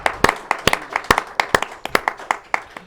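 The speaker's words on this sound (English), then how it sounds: "Let's get a round of applause for Miss Vivian." Scattered applause at a local community evening program, a modest group of hands clapping in distinct, uneven slaps that stay fairly close and moderately loud, with no one talking.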